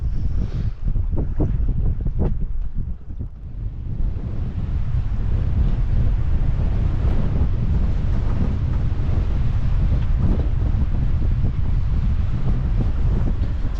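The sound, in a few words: strong wind blowing at a boat anchorage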